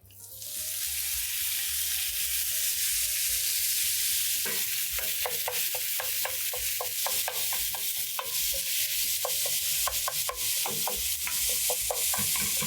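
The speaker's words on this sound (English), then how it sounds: "Makes it a whole lot easier to crumble the ground beef inside the pan." Ground beef sizzles steadily in a hot pan while a utensil scrapes and breaks it apart in repeated rhythmic strokes, loud and close with no talking.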